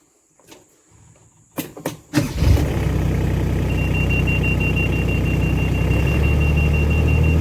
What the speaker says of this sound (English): I do hate that reversing beep beep beep beep beep